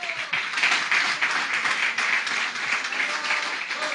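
A church congregation claps their hands together, producing a dense, continuous wash of applause that stays fairly loud and even from start to finish, with no speech over it.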